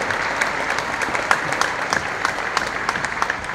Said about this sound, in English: give a hand clap to the mothers-in-law